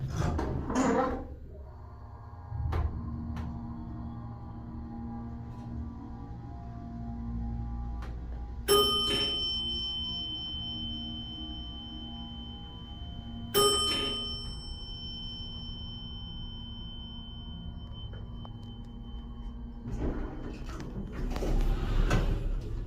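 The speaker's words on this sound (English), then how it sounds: "I think this has a Vanpeck motor. Let's listen." A Noble hydraulic elevator with a Van Peck motor in a building on Wall Street, Huntington, New York: a faint steady motor hum runs throughout, with two bright chimes midway and soft door rumbles at the start and end.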